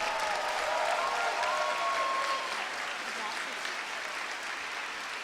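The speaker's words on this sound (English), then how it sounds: "Can we have a big round of applause for the students" Audience at a primary school production applauds the students with steady, dense clapping that fades slightly toward the end, while faint voices and cheers rise briefly near the start.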